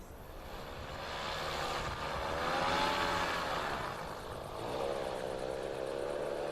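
A motorized paraglider's propeller engine hums steadily overhead at the ruins of Carthage, swelling and fading as it passes.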